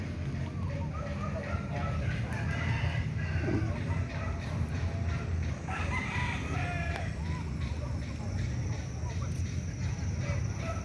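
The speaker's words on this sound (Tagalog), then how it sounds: "Dito tayo ngayon sa ating manukan" Chickens cluck and a rooster crows inside a chicken coop, with a busy, noisy farmyard background and people talking faintly throughout.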